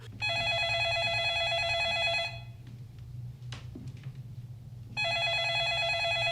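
A telephone in the 2002 film The Ring rings loudly in two bursts of bright electronic trills, separated by a short quiet gap, over a low steady hum.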